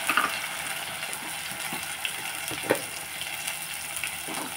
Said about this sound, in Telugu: ఇప్పుడు నేను ఉల్లిపాయ పేస్ట్, పచ్చిమిర్చి కూడా వేసేస్తాను.